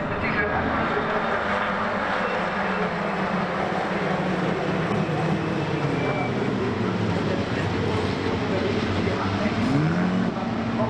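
ADAC Formula 4 racing engines, 160 hp Abarth units at the Nürburgring, drone continuously in the distance, a dense mechanical roar with a faint rising whine as cars accelerate past.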